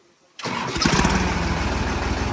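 A tractor engine fitted with a silencer bursts into life after a short quiet moment, then settles into a loud, steady, throbbing idle up close.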